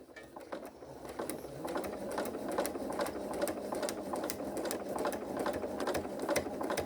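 A sewing machine stitches a seam on a log cabin quilt block, a steady rapid clatter of needle strokes running continuously at close range, moderately quiet.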